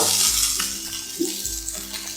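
Finely chopped medium onion with curry leaves frying in a pan, heard as a loud, bright sizzle with a few spatula scrapes and a couple of light knocks against the pan, up close and without speech.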